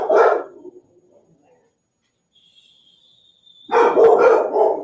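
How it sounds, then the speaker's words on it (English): Dogs indoors burst into loud, close barking, then fall quiet for a few seconds before a second flurry of overlapping barks. "Sorry if the dogs are scaring you."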